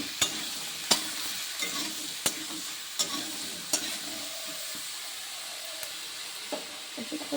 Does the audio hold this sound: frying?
yes